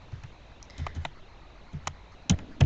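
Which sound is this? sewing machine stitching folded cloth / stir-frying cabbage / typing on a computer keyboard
typing on a computer keyboard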